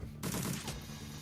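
A burst of gunfire in Shadowrun: Dragonfall starts abruptly, a short clattering volley of shots that trails off into a quieter, fading tail.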